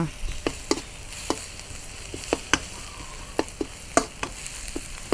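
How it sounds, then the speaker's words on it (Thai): Garlic stir-frying in vegetable oil in a pan: a continuous soft sizzle punctuated by frequent sharp spatula scrapes and taps at an irregular rhythm, close and moderately loud, with no speech. "กระเทียมเยอะเดี๋ยวขอเติมน้ำมันพืชน้อยนึง ผัดให้หอมเลยนะคะ"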